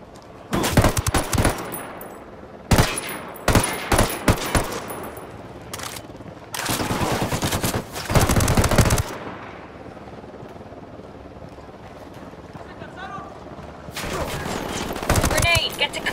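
Bursts of machine gun fire crackle in a Ghost Recon Wildlands firefight, with repeated loud volleys separated by short pauses and a final sustained burst, voices shouting faintly amid the shooting.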